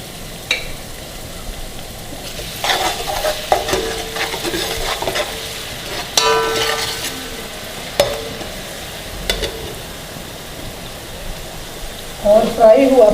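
Beef kofta frying in a pan with green chili paste, soft sizzling with scattered stirring scrapes and clinks throughout, a voice speaking over it near the end.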